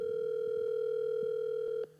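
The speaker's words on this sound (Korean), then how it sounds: "전화 연결되고 있습니다." A steady, loud telephone ringback tone hums continuously as a call connects, with faint background taps underneath, before dropping away at the end.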